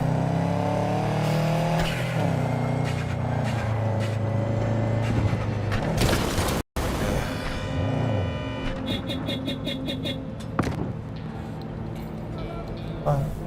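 A racing car engine in Cyberpunk 2077 revs and roars continuously, shifting pitch as it accelerates, with a brief cut partway through and voices talking over it.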